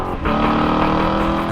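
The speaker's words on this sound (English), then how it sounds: "Our S-Type sound is much more aggressive throughout the entire power band." A Chevrolet Corvette C7 with a Borla S-Type exhaust revs hard, its loud, aggressive engine note jumping up sharply at the start of a short burst and then holding high.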